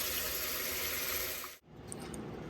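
Cold tap water runs steadily into a kitchen sink while raw chicken is rinsed front and back, a close, even wash of splashing flow that cuts off abruptly near the end before softer dripping and faint sink noise continue.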